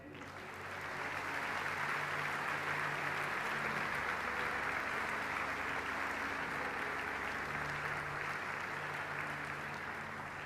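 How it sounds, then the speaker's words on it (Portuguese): A church congregation breaks into sustained applause, a dense wash of clapping that swells within the first second and holds steady for about ten seconds, with a low hum or murmur underneath. "Dê um aplauso ao Senhor."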